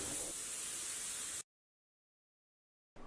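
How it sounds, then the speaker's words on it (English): A DeVilbiss spray gun sprays clear coat, a steady loud hiss of air and atomised paint for about a second and a half before cutting off abruptly, followed by silence and a brief burst of spray at the end. "the more expensive DeVilbiss has a more even spray pattern and more clear comes out when the trigger is pulled"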